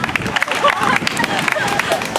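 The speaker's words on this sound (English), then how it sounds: "A cheer breaks out among the crowd." Outdoor crowd of several hundred cheering at a public library grand opening on a warm summer day, a steady babble of voices with scattered claps and shouts spread throughout.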